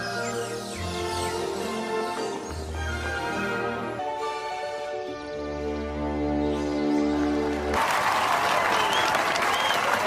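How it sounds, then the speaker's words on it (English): Students clapping in a scene from Harry Potter and the Goblet of Fire (2005), a crowd's applause welcoming Beauxbatons Academy, heard under loud orchestral film music that shifts and swells, with applause rising clearly near the end. "Oh, the guys are clapping."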